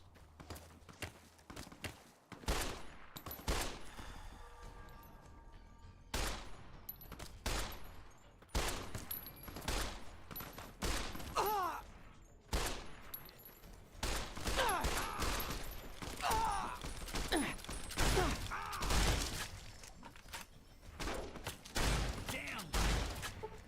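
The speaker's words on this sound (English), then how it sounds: "Shotguns aren't effective against armored opponents." Shotgun fire in Fallout: New Vegas: a run of separate booming blasts, several clustered then spaced out, loud and close with ringing and clattering in between and no speech.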